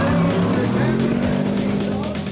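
The Sno King race vehicle launches at full throttle from about 2,800 RPM, a loud, close, continuous engine roar with a rising pitch over two seconds.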